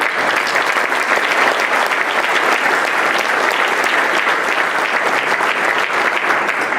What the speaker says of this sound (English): I just want one more round of applause for you guys